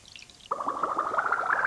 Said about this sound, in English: I'll give it some water.